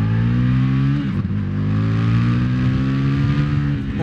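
Indian FTR 1200 motorcycle with the throttle opened in first gear on a night ride through Belgrade: a loud, close engine drone rising steadily in pitch as it revs, with a brief dip around the first second.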